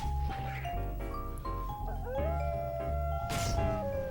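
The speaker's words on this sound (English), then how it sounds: "We're going to use Howl now." Howl pet ability effect from a World of Warcraft pet battle: a drawn-out wolf-like howl with sliding tonal pitches layered over game music and effects, loud and continuous for about four seconds.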